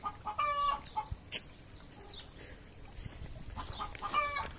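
A chicken clucks in short, close bursts at the start and again near the end, with quiet garden background between the calls.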